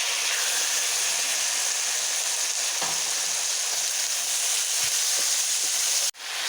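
Tomatoes and green chilies hit golden-fried onions in a pan for masala bhindi, giving a steady, close, loud sizzle and hiss that runs unbroken throughout, with a few soft stirring knocks and no talking.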